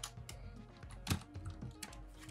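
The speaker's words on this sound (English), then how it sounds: "We type Java home." Quiet, close keyboard typing while entering a Java home environment variable on a computer, with a string of irregular clicks and one louder keystroke partway through.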